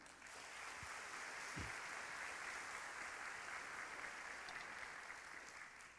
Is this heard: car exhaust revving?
no